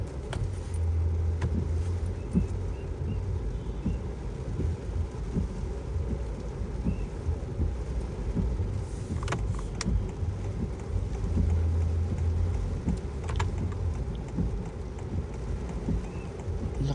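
Heavy rain drums steadily on a Honda Civic RS eHEV, a dense continuous wash of noise with occasional sharper taps over a low rumble.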